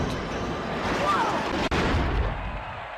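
A podracer slams into a wall upside down during a zero-gravity section in the Star Wars Episode 1 Racer video game, a dense roaring engine wash with a sudden sharp dropout and impact mid-clip, loud and continuous throughout.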